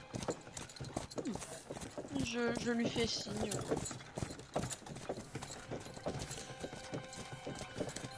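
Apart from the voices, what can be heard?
horse hooves clip-clopping, role-playing game sound effect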